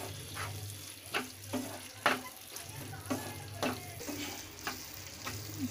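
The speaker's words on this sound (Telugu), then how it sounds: "ఇప్పుడు మళ్ళీ మొత్తం తిప్పుకున్నాము ఒకసారి అంతా పట్టేటట్టుగా" Tomato chana dal curry with garam masala stirred in a pan, a quiet continuous sizzle punctuated by about ten soft spoon scrapes and taps in a loose, steady rhythm, nobody speaking.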